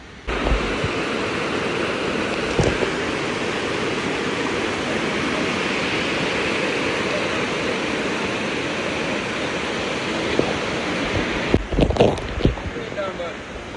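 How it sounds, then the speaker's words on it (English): Steady, loud rushing roar of cascading water at Dunn's River Falls in Jamaica fills the whole stretch, with a few brief knocks and faint voices near the end. "Today I am at Dunn's River Falls, so I will take you along with me"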